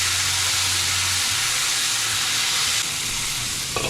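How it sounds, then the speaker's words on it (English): Sirloin and backstrap steaks fry in bacon grease in a pan, with a loud, steady, close sizzle and crackle over a low hum and no speech. "Alright, I added some bacon grease to my pan here. Now let's add our steaks."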